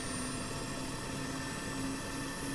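Helicopter engines spool up in a flight simulator with an Mi-8MTV, a steady turbine whine with a low droning hum, even and unbroken throughout.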